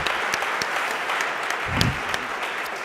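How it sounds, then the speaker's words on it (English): Audience applause closes a fireside chat with Erik Voorhees at a blockchain event, a steady wash of clapping from a room full of listeners, even in level, with a brief low thump partway through. "Let's give Erik a round of applause."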